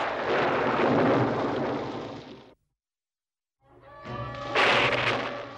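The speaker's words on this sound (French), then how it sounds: "Grand Schtroumpf, vous croyez que le Schtroumpf paresseux est dehors dans cette tempête?" Thunderstorm effect from an animated Smurfs cartoon: a loud rumbling roar of thunder and wind that cuts to abrupt silence, then swells again with a bright crackling burst.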